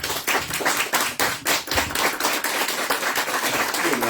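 An audience at a book presentation in Biblioteca Manzini claps for a speaker, close individual hand claps forming a loud, uneven applause that holds steady throughout with no one speaking.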